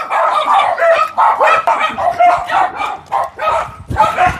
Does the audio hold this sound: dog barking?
yes